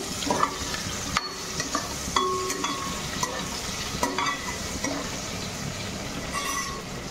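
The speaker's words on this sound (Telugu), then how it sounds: "ఉల్లిపాయలు, ఎండుమిర్చి, తాలింపు గింజలు వేసేసానండి. నూనెలో బాగా వేగుతున్నాయి." Onions, dry chillies and seasoning seeds fry in hot oil with a steady close sizzle, punctuated by sharp clinks and scrapes of a spoon stirring the pan.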